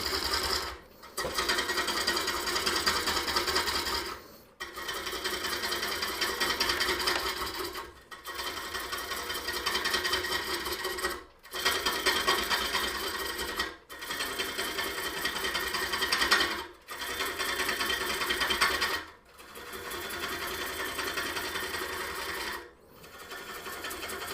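Wood lathe turning a green cherry bowl: a loud, steady mechanical whir of the spinning blank and cutting tool, broken into bursts of a few seconds by short silent pauses, with no voices.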